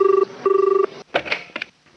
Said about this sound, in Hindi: सिद्धार्थ, फोन लेना ही पड़ेगा